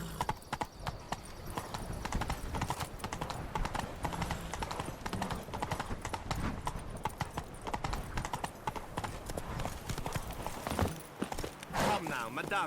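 Horse hooves clip-clop steadily in The Witcher 3: Blood and Wine, a continuous walking rhythm close by under game music and spoken dialogue, with a brief whinny possible near the end.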